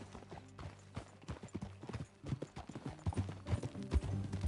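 Horse hooves clip-clop at a steady gallop while riding in the video game Red Dead Redemption, close and rhythmic, with music and tack sounds mixed beneath.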